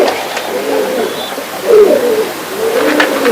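A pigeon with silky feathers coos in low, rolling phrases, close and steady, with no talk over it.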